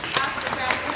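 Audience applause at a memorial celebration of life, a steady wash of clapping heard in a short burst, moderately loud and close.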